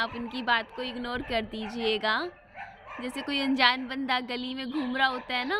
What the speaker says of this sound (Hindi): सॉरी, कुत्ते भौंक रहे हैं